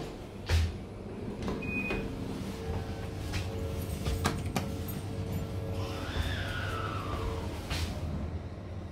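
A Hitachi elevator door opening at Shin-Matsuda station on the Odakyu line, a soft sliding rumble with chimes and a short beep over station ambience.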